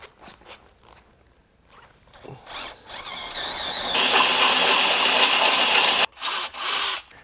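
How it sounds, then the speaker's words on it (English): A power drill bores slowly into a Can-Am sway bar, starting with a few short bursts and handling noises, then a sustained close whine that stops abruptly before two final short bursts. "I also like to drill this slow."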